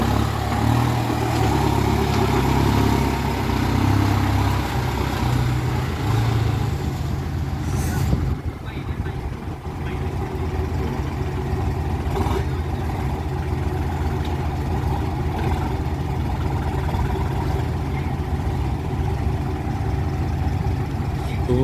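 A heavy tractor engine drones steadily throughout, loud and close, with a brief hiss or clatter partway through.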